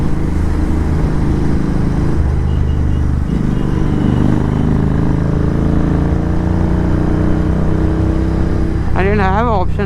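A motorcycle exhaust drones loudly and steadily during a night ride on a highway, a close continuous engine roar with a brief rising-and-falling tonal sweep near the end.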